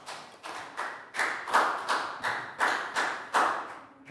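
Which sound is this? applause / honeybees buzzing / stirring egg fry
applause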